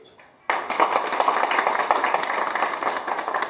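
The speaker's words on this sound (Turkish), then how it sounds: "Onu bir alkışlayalım." An audience at a local association gathering claps for journalist Vural Yeşilyurt. After a brief quiet start, dense hand-clapping bursts in and carries on steadily, moderately loud and fairly close, with no voices on top.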